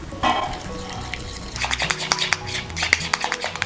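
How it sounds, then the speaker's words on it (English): Peanut sauce sweetened with agave syrup and a drop of sesame oil gets a brief whisk in a bowl, starting quiet and then turning into quick, light rhythmic tapping and scraping close up. "So give that a bit of a stir, just a little whisk."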